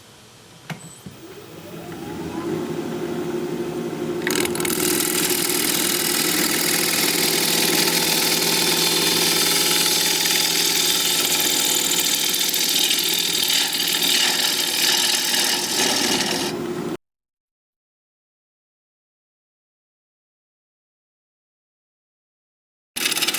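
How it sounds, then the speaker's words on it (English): A bench grinder runs close and loud while a woodturning gouge is sharpened, a steady whirring drone with grinding hiss that holds for about fifteen seconds, then cuts to silence. "I'm going to go sharpen up"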